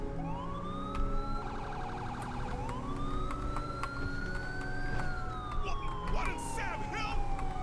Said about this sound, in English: We got the sirens up ahead as well.